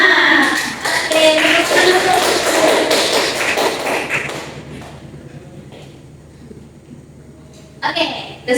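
Students in a classroom clap out the rhythmic tepuk semangat chant, quick bursts of group clapping mixed with voices calling along, then a quieter stretch before a final short clap burst.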